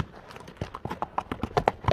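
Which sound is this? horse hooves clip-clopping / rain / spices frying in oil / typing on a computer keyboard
horse hooves clip-clopping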